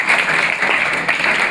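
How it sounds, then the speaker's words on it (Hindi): An audience applauds a student at a school competition in Haryana, a dense burst of many hands clapping at once, loud and close, with no voices over it. "एक बार इनके लिए जोरदार तालियां"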